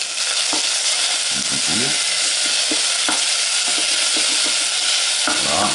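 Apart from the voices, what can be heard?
lardons frying in a pan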